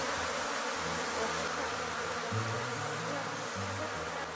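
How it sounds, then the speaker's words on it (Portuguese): Honeybee swarm buzzing at a beehive, a dense continuous drone of many wings close up with shifting low hums as individual bees pass near. "Aqui nos próximos 15 dias, no máximo, eu tenho que dividir esse enxame"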